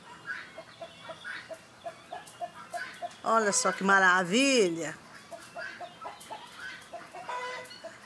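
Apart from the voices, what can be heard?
chickens clucking at dawn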